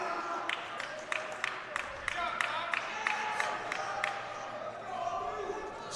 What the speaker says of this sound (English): you see the crowd getting excited